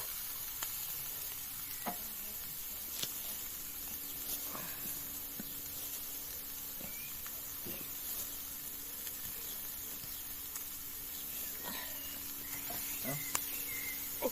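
Steady sizzling hiss of pork grilling on an oiled grill pan, continuous and fairly loud, with occasional clicks and light taps.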